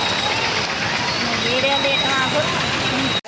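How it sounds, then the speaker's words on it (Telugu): Heavy rain pours steadily over an outdoor street market selling Ganesh festival leaves, a dense close hiss that fills the whole stretch, with a voice heard faintly under it and a sudden cut at the end. "పిచ్చి వాన పడుతుంది ఫ్రెండ్స్"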